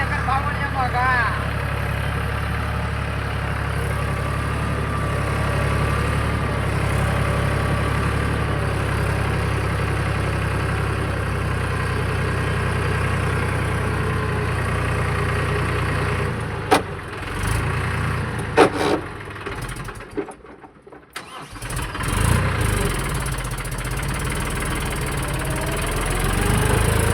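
A tractor engine idles outdoors with a steady low rumble that holds throughout, fading briefly near the end, with faint voices in the background.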